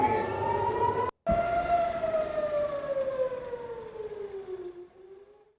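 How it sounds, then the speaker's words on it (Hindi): Air raid sirens wailing across Haifa, Israel: a loud, sustained electronic tone that holds steady, then slowly slides down in pitch and fades, with one abrupt brief dropout near the start. "और इजराइल के हाइफा में फिर बजने लगे सायरन।"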